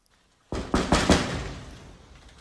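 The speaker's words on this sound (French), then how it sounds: "Toc toc toc, toc toc toc, qui est là?" After a moment of silence, someone knocks on a door four times in quick succession; the raps are close and sharp and echo briefly in the room.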